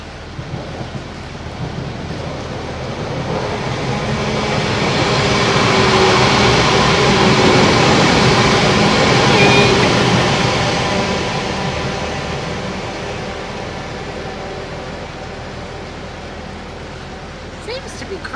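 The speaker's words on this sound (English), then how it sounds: "Here comes the train." A train passing close to a moored narrowboat on a canal, a broad rumbling roar that swells over several seconds, peaks midway and slowly fades, with no talk over it.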